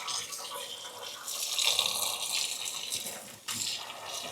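Water runs and splashes over a kitchen sink faucet being scrubbed clean, a steady close wash of flowing liquid with a brief break near the end before it resumes.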